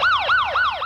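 Ambulance siren wailing in quick repeated rising-and-falling sweeps, about three cycles, loud and close with no talk over it.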